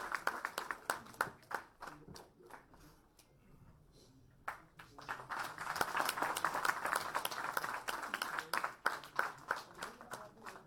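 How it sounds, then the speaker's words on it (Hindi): Audience applause for a guest at an Eid celebration, starting as scattered claps and swelling into a steady, fairly distant round of clapping from a crowd. "भरपूर तालियां हो जाए इनके लिए।"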